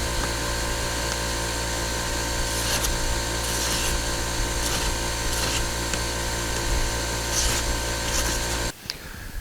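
A Razor Sharp wheel sharpening system grinds a knife blade against a grit-impregnated wheel, a steady loud mechanical whir and grinding hum running continuously before cutting out abruptly near the end.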